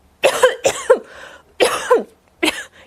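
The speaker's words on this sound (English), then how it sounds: "Yes, I have a cough." A sick person with a sore throat coughs several times, harsh close bursts coming in two quick pairs and then a single cough, with short pauses between them and no talking.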